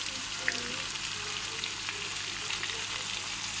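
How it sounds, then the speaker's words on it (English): Spring onions, pepper and frozen green beans with sweet corn frying in a pan for coconut fried rice, giving a dense, even sizzle close by with light scattered crackles and no voices. "So I'm going to fry this now for about 3 minutes."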